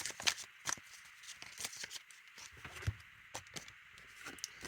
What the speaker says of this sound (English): I'll just shuffle the deck